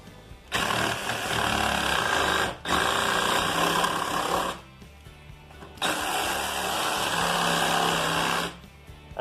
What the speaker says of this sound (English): I'm going to take a Sawzall and just kind of run my blade in there